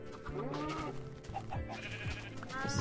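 Sheep in a German Minecraft village bleating several times over a steady game background hum, with overlapping wavering cries close up and no talking.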